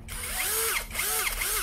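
A Toyoko three-function cordless drill with a 10 mm chuck, used for drilling, screwdriving and hammer drilling, whirs in short bursts, its motor pitch rising and falling three times at close range.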